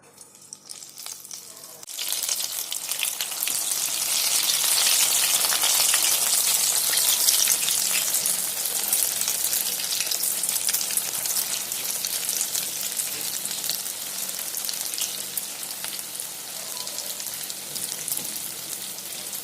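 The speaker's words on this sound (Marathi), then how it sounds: "डाळीचे वडे मीडियम लो फ्लेमवरती तळून घ्यावे।" Lentil vadas deep-fry in oil over a medium-low flame, a sudden loud burst of dense crackling sizzle that settles into a steady bubbling hiss, close up.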